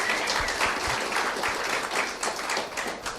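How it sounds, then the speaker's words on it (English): Brief round of applause for a tech crew at a pre-season launch event, a dense patter of many hands clapping at a steady level throughout, with no clear voices on top. "if we could just have a small round of applause"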